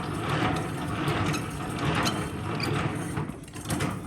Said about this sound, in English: Clamp both feet and put your landing gear up